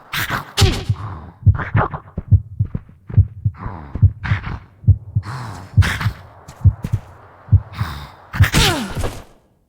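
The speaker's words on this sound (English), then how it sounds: "This is to ensure that the heartbeat sample will still finish, even after the player dies" A video game heartbeat sound effect pulses as steady, deep, close thumps in a regular rhythm, layered with breathy, sighing textures and brief higher accents between the beats.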